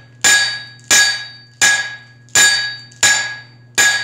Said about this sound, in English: I'm hitting with the hammer half on and half off